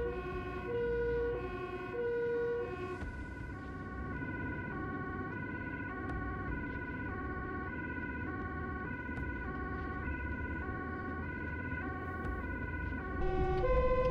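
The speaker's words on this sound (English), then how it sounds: "with the help of the lights and sirens, our driver navigates past the lanes with cars just fine" Emergency vehicle siren wailing steadily in alternating two-tone and rising-falling patterns, loud and continuous for the whole stretch, with road and engine rumble beneath as the vehicle pushes through a traffic jam.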